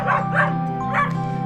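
Cartoon dogs in an animated animal shelter bark and yelp in three quick, whimpering bursts over a steady low hum, fairly close and plaintive.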